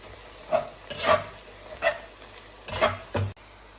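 Beef cooking in oil with chili powder is stirred in a pan, giving several distinct scraping strokes over a soft sizzle, close and moderately loud.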